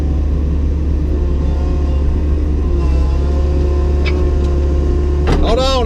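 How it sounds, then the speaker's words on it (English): Two John Deere skid steers idle at a sewer pipe and manhole installation site, a loud, steady low engine rumble running throughout while someone talks over it. "Two John Deere skid steers sitting over there, one with pipe, and one's ready with gravel on"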